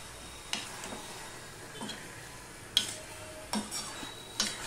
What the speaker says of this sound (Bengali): এবার সম্পূর্ণটা আমি মিশিয়ে নিলাম।